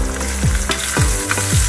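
Black pepper, cumin seeds and garlic fry in hot ghee with a loud, close, continuous sizzle, broken by rhythmic scraping strokes of a stirring spoon, no voices.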